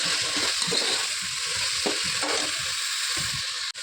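Carrots, beans, potatoes and peas fry in oil in a pan, giving a continuous close sizzle with intermittent stirring scrapes and no speech.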